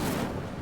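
The Incendio fire spell from Hogwarts magic, heard as a brief, loud burst of crackling, roaring blast that fades slightly over under a second.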